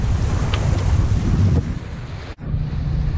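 Strong wind buffets the microphone aboard a sailboat crossing the Strait of Gibraltar in the Mediterranean, a loud steady roar with water rushing below that cuts out abruptly for a moment and then returns.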